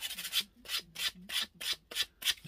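Sandpaper scrubs rust off the metal of a Stanley 4 1/2 hand plane in quick back-and-forth strokes, about seven crisp rasping passes close up with short pauses between.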